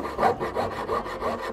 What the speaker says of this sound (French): c'est le sciage de la tige de coulée